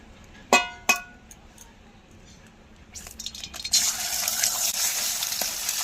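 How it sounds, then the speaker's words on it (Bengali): A couple of sharp metallic clinks ring out first. About halfway through, an egg drops into hot white oil in a wok and breaks into a loud, bright sizzle that keeps going. "কড়াইতে এবার সাদা তেল দিয়ে দেব অল্প করে। এবার একটা ডিম ভেজে নেব।"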